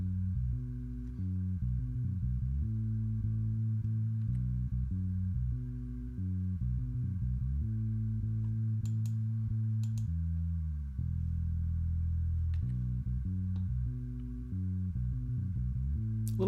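Low end of a soloed mix bus from a song, heavily compressed at 20-to-1: sustained bass notes and kick thumps change pitch steadily, slightly distorted, with no voices.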